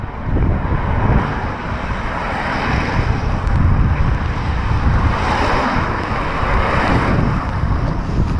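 Strong wind buffets the microphone on Y Garn in Snowdonia during very wet, windy weather, a loud continuous roar with gusts rising and falling throughout, no voices.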